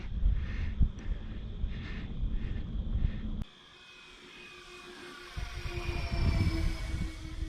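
RC Marine 1 twin-engine model plane with Tiger F90 1950 kv motors cruising at about 35% throttle, a fairly quiet, steady electric whine and airflow hum, with a brief handling clatter before the tone settles.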